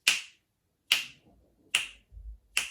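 Four crisp finger snaps mark a steady musical pulse in a solfeggio lesson on beat and meter. The snaps are evenly spaced and close, with faint low rumbles between them and no voice.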